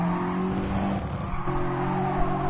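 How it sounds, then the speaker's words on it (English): An old Mazda RX-7 in the Gran Turismo racing game, a steady droning engine note that dips and resumes, mixed with tire noise and race car sounds. "Well, that's a nice old RX-7 behind me."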